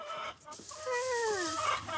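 Backyard hens cluck and call close by, one drawn-out wavering cackle rising and falling after a brief pause, with no voices present.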